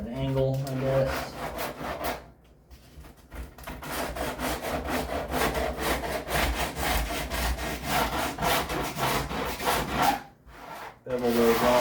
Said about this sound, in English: Bevel those off a little bit.